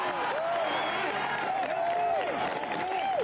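A golf gallery at the final round of the 1991 JCPenney Classic applauds a tee shot with steady, sustained clapping that fills the whole moment, a commentator's voice running over it.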